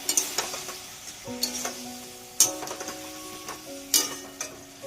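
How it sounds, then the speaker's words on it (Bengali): Broad beans being stirred with mustard paste in a frying pan give off soft scraping, clinking strokes over a gentle sizzle, with a few sharper spatula knocks standing out. "এবার আমি সর্ষে বাটা দিলাম। সর্ষে বাটা দিয়ে নেড়ে চেড়ে"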